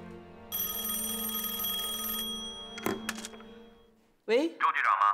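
An old-style telephone bell rings in a continuous metallic trill, stops with a clunk as the handset is lifted, then someone speaks into it.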